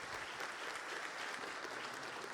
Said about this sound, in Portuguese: Eu quero pedir uma salva de palmas a Novo Tempo